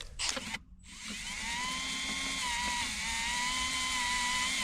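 A cordless battery drill bores drainage holes, starting with a short burst, then a brief pause before a long, steady high-pitched whine that holds close and loud to the end.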